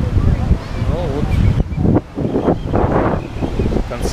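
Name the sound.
wind blowing at Indian Rock beach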